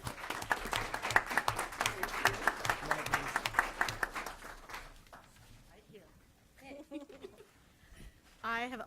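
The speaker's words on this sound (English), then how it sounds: "So give her a round of applause." Audience applause at a Murray City council meeting honoring an employee of the month: dense clapping for about five seconds, then fading as a voice begins speaking.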